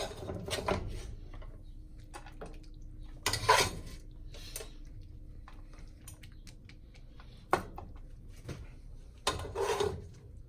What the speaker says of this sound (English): I'm gonna start plating because I'm hungry.